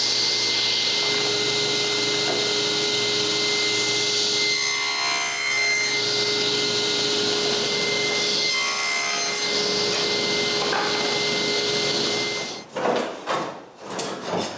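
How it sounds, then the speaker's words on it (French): A power tool cuts grooves into the corners of a glued wooden box, a loud continuous whine with rasping bursts as the blade bites the wood, then winding down into softer rubbing knocks at the end. "je peux couper 2 rainures sur chaque coin de ma boîte"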